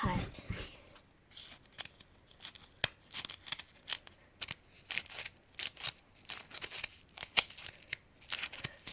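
Scissors snip through paper for a paper dragon puppet, giving a series of sharp, close, irregular cuts with quiet gaps between them.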